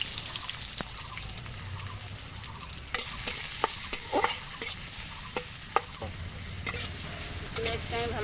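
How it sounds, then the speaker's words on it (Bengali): Chopped onion fries in oil in a wok for chicken kosa. A continuous sizzle runs underneath while a spatula stirs with sharp, irregular scrapes and clicks, close and clear. "পেঁয়াজটা আমি ভালোভাবে ভেজে নেব।"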